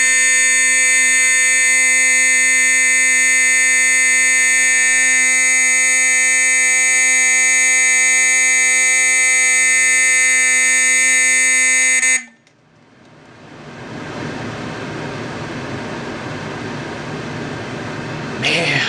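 A Simplex 4051 fire alarm horn fitted with a 2903-9001 light plate blares a loud, steady harmonic tone for about twelve seconds, then cuts off abruptly, leaving broadband room noise and rustling.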